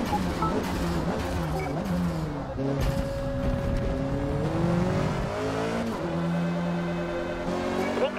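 Race car engine in Forza Motorsport howls steadily through gear changes with rising and falling pitch, loud and continuous, with occasional tire noise and a voice talking over it.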